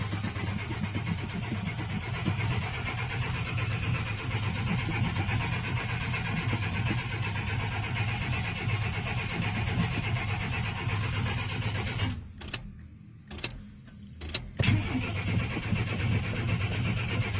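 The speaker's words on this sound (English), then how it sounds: "first fire up of the carburetor" A 4.3L engine, just converted from throttle-body injection to a carburetor, is pumped and cranked for its first start, then runs with a steady rumble. A short break in the sound comes near the end before the engine catches again.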